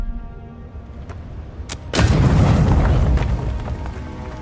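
A grenade in the video game Avowed bursts with a sudden heavy boom, then a dense rumbling roar that lingers and slowly fades, following a few small clicks.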